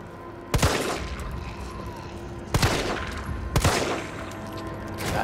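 Gunfire in the Resident Evil 3 Remake demo: three loud, close gun blasts, the first near the start and two more spaced about a second apart later, each ringing out over a steady low game ambience with no talking.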